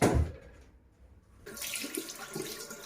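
Tap water runs while hair is being washed, a steady hiss that starts after a short gap and continues close by without any talk.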